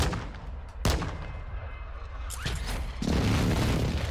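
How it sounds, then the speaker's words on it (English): Airstrike explosions hit in Call of Duty Warzone 2.0, a few sharp booms and blasts over rumbling battle noise, loud and close, with the rumble growing heavier toward the end. "Airstrike! Run!"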